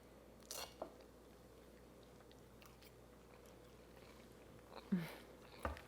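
Someone bites into and chews a flaky baklava apple tart, producing a few faint, crisp crunches scattered over a quiet room.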